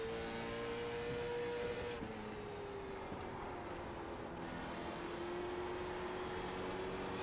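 A late model stock car engine in the iRacing sim game drones steadily at high revs through a lap. Its pitch dips slightly and then climbs back up, with a continuous rumble and road noise underneath and no voices.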